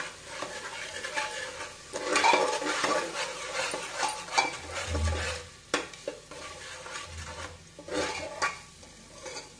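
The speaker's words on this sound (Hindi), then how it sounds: "अब हम मसालों को अच्छे से चला लेंगे।" Spices being stirred in a pan over a low gas flame for a banda (taro root) sabzi: steady scraping and clinking of a spoon against the pan with soft sizzling underneath, continuous and close, with no talking.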